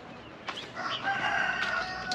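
A Tokat breed rooster crows once in a coop on a cold day, fairly close and loud against a quiet background, with a few clucks from the other chickens around it.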